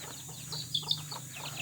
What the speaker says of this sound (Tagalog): Look at these chickens.